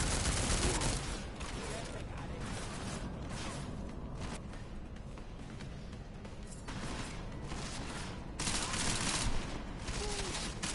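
Sustained bursts of gunfire strike the player during combat in Deus Ex: Mankind Divided, loud, dense and continuous, with faint voices underneath.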